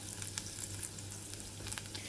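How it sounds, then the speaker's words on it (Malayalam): Three or four tablespoons of small coconut pieces fry in ghee, a short, quiet, steady sizzle with a few light crackles and no voices. "ഒരു മൂന്നാല് ടേബിൾ സ്പൂണ് തേങ്ങാക്കൊത്ത് എടുത്തിട്ടുണ്ട് അത് ഇതിലേക്ക് ഇട്ട് കൊടുത്തിട്ട് മൂപ്പിച്ചെടുക്കാം"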